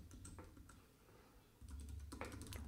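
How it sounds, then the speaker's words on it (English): Keys clack in quick irregular bursts while text is typed on a computer keyboard to build a WordPress website, close and fairly clear over a low steady background hum. "So now I'm going to type in my text"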